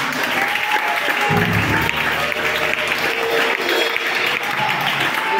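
A church congregation applauds steadily throughout, a dense, sustained wash of clapping filling the space with a low rumble of voices underneath.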